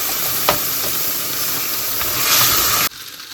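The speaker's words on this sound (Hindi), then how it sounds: "मैं अब टमाटर पेस्ट इसमें डालूंगी।" Steady sizzling hiss of tomato paste hitting garlic and onion frying in a pan, constant and close with a brief stir clink, cutting off abruptly near the end.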